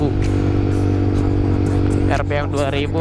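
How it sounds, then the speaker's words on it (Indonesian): A Suzuki GSX-R150 fitted with a racing exhaust idles and runs at about 2000 RPM with a loud, uneven, sputtering engine note, close by, ending in a few rough revving bursts. "kalau ganti knalpot racing pasti berebet gitu, kayak bensin mau habis gitu. Pas di RPM 2000"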